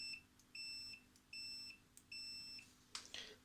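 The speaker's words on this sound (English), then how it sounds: "So it's rigged up as continuity tester." A multimeter rigged as a continuity tester gives four short electronic beeps in an even stop-start rhythm, faint and close, followed by a couple of brief clicks as the probes are handled.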